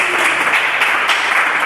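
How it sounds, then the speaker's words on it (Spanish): A church congregation applauds the Holy Spirit during a Spanish-language worship service, with steady, dense clapping that fills the room evenly and continuously from start to finish. "Denle un fuerte aplauso al Espíritu Santo."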